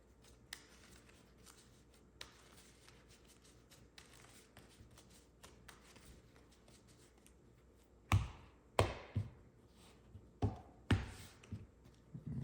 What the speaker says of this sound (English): Gonna get a nice good shuffle in.